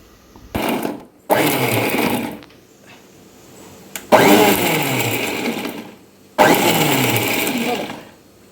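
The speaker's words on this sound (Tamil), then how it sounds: "நம்ம வந்து மிக்ஸியில் 2 பல்ஸ் மட்டும் போட்டு எடுத்துக்கணும்" A mixer grinder pulsing onions whirs in three short, loud pulses, each starting abruptly and cutting off, with brief clatters and silence between bursts.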